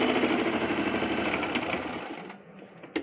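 Singer Promise 1409 sewing machine stitching fabric at a neckline, a fast continuous mechanical whirr up close that slows and stops near the end, followed by a brief click.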